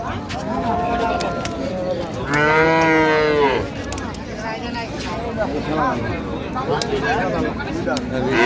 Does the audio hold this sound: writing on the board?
no